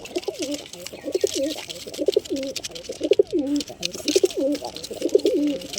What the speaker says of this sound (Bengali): দেখুন বন্ধুরা পায়রা কতটা অ্যাক্টিভ